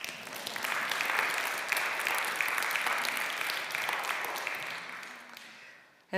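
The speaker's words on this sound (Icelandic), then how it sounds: "Þið megi alveg klappa ef viljið." A church congregation at a Sunday service in Lindakirkja, Iceland, applauds with sustained, even clapping that fills the room for several seconds before tapering off near the end.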